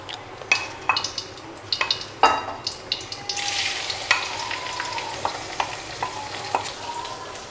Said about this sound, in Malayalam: പാവയ്ക്ക വറുത്തെടുക്കാനായിട്ട് ഞാനൊരു ചീനിച്ചട്ടിയിൽ കുറച്ച് എണ്ണ ഒഴിച്ചിട്ടുണ്ട്